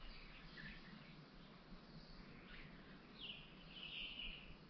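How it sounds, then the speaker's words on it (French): Birds chirping and calling in a small forest near an old port, scattered high calls over a steady low hum of ambient noise, moderately faint with no talking. "on entend juste le bruit des oiseaux."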